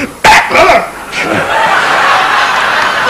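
A voice imitates a German shepherd dog attacking an opponent, with a burst of snarling, barking sounds up close that trail into rough, breathy growling over a steady background hiss.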